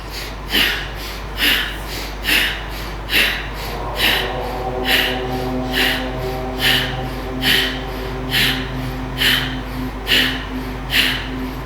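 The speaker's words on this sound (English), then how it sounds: "breathe in and flick the belly forward, breathe out, flick it back" Rhythmic yoga belly breathing through the nose, with short forceful puffs repeating roughly once per second for about a dozen cycles, close and loud over a steady low hum.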